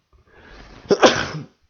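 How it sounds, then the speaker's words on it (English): A single sharp sneeze with a short breathy buildup, close and fairly loud, then quiet. "I just had to sneeze here"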